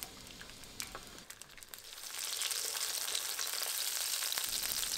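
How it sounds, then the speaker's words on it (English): Chili-dipped tortillas for enchiladas frying in hot oil in a pan: a soft crackle that swells after about two seconds into a loud, steady, close hiss of sizzling fat. "I'm going to put them right into the pan and fry them up for about 20 seconds per"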